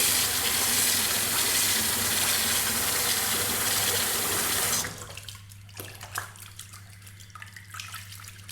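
Tap water runs in a steady, loud gush into a shaving bowl during a straight razor shave with a Manaslu razor, then cuts off abruptly about halfway through, leaving quieter small drips and handling noises.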